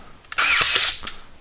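Ryobi 18V cordless brad nailer, model P321, firing a single nail: a brief motor whir that ends in a sharp snap, close and alone.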